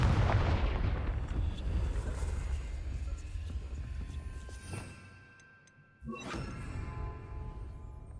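A Confringo fire spell blasts in the Hogwarts Legacy video game, a loud booming explosion that rumbles and decays over several seconds, followed by a sharp second burst near the end.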